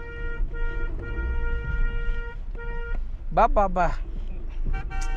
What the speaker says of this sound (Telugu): మన సైడు హార్న్ కొట్టినా జరగడు, హార్న్ కొడితే భలే జరుగుతున్నాయి వెంటనే.